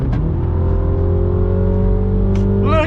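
A Mini pulling hard on twisty roads, engine tone steady and loud from inside the cabin with a brief shift near the end, no talking.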